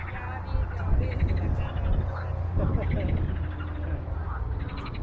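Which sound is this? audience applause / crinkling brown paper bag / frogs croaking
frogs croaking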